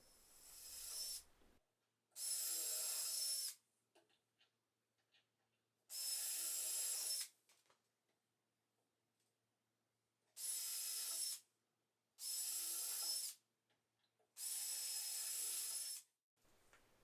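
A power drill whirs in five separate bursts, each running one to two seconds, pre-drilling wooden shelves, with short quiet gaps and faint clicks and handling noises in between.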